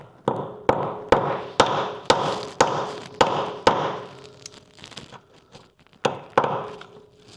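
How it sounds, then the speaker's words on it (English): A hammer strikes a rusted star-key bolt on a BMW 120D rear suspension, about a dozen sharp metallic blows in a steady rhythm, close and loud, then a pause and a few more hits. "feel that up and then take a hammer"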